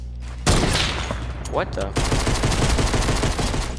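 Rapid bursts of pistol fire from a video game crackle through the clip, starting abruptly after a quiet opening and continuing as a dense, repeated volley, with a player's brief exclamation heard over the shots.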